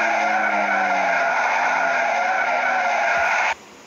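A car in a sports car racing video game brakes hard at around 130, its tires skidding with a loud, continuous screech over the engine for several seconds before cutting off abruptly.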